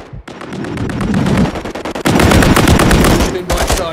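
Rapid automatic gunfire in a Call of Duty video game battle, sustained bursts of machine gun fire repeating almost without pause, loud and close, with a brief gap near the middle before the firing resumes.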